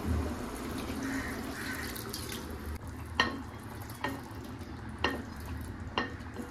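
Coconut milk pours into simmering lentils (cholar dal) in a pot, a steady low liquid wash with a few sharp clinks of a utensil at regular intervals, no talking.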